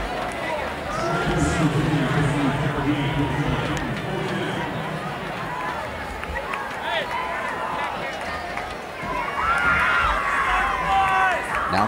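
A college football stadium crowd of over 18,000 fills the air with continuous cheering and roaring from a distance, swelling toward the end, while a commentator talks over it.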